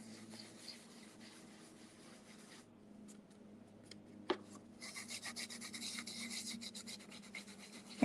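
Rubbing off excess gilding leaf, a faint brushing and scratching sound that pauses briefly, then returns as louder, denser rubbing strokes, with one sharp tap midway.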